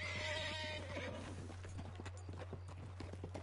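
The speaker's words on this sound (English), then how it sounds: "My gypsy cob horse." A gypsy cob horse in Red Dead Redemption 2 Online whinnies at the start, followed by steady hoof clip-clops over a low constant hum, fairly quiet overall.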